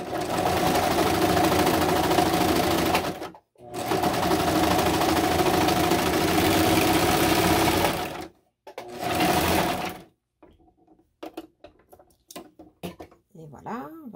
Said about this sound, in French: je vais venir faire une couture de surjet tout le long